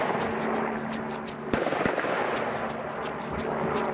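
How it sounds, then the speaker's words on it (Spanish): Faint, distant assault rifle shots crack out a couple of times over a steady outdoor background hiss, short sharp reports without any talk. "En el registro se escuchan en total 12 tiros de los fusiles de asalto MP4 en manos de los GOPE"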